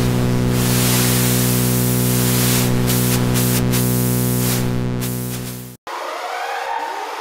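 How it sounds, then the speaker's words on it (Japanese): Noise source of the Arturia CZ V software synthesizer: a loud, steady hiss layered over a sustained tonal chord that cuts off abruptly near the end, followed by a quieter, brighter noisy tone. "ノイズソースでノイズを足すことができます。"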